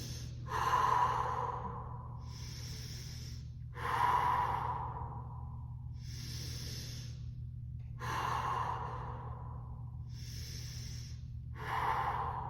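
Slow, deep breathing while holding a plank pose: three or four full inhale-exhale cycles, each a loud, close, rushing breath with an airy release, over a low steady hum.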